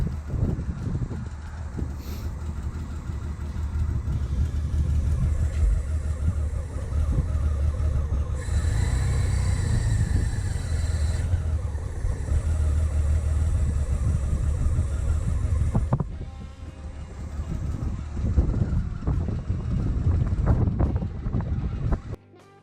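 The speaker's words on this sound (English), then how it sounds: "It is idling great now, and there are no leaks." A 1996 Honda GoldWing GL1500 SE motorcycle idles steadily and close by after a fuel petcock leak repair, a continuous low engine rumble running throughout with some wind noise and no talking.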